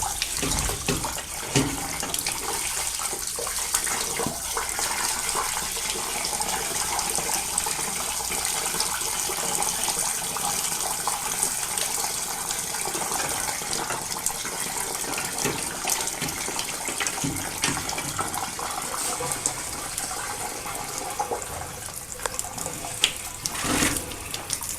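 Water gushes continuously and fairly loudly while a steam boiler is washed out, a steady hissing rush with no talking.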